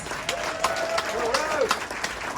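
Audience applause for band members being introduced at a live music concert, a steady wash of clapping with a few sharp individual claps and faint cheering, heard from mid-distance throughout.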